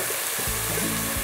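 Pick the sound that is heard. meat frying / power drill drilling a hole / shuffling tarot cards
meat frying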